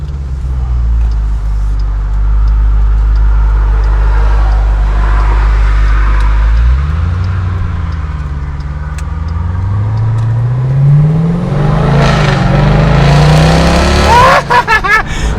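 A Dodge Durango Hellcat's engine rumbles loudly and close by, idling deep before the revs climb and swell in a rising sweep, then fall back. No one speaks.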